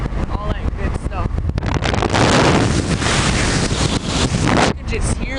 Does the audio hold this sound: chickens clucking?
no